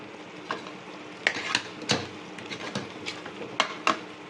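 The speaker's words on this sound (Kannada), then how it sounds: "ಈ ಹಸಿ ವಾಸನೆ ಎಲ್ಲ ಹೋಗಲಿ ಅಷ್ಟೋ ತನಕ ಸ್ವಲ್ಪ ಫ್ರೈ ಆಗಲಿ." Masala spices with chilli powder frying in a pan for Karnataka-style tomato bath, a steady sizzle broken by sharp scraping strokes of a stirring spoon at irregular intervals, close and fairly quiet.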